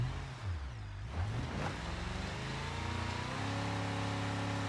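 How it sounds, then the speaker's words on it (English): A video game car engine labours uphill with a sustained low drone, its pitch sliding and wavering before settling into a steady strained hum near the listener. "Oh, the car is struggling."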